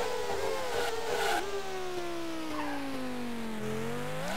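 Race car engine in the PC game Grand Prix 2, a single synthesized engine note that holds high, dips as the car slows, then climbs again, loud and steady with a brief rough burst early on.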